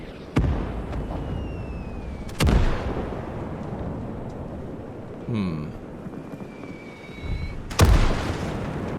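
Several heavy video game artillery shell explosions go off at irregular intervals in a 1943 Leningrad battle, some sharp and close, with a rumbling battlefield background and a brief whistling streak between blasts.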